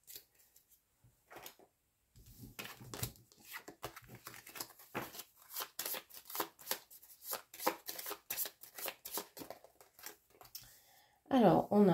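Tarot-style cards shuffled and drawn for a reading: bursts of quick papery riffles and flicks, close and fairly quiet, broken by short pauses, with a voice speaking near the end.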